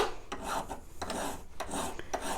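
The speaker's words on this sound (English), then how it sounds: "So I'm going to take my file and I'm going to file this edge all the way down to my scribe line here." Hand file rasping along the edge of a 20-gauge sterling silver sheet, steady back-and-forth strokes in a repeating rhythm, close and moderately loud with no talking.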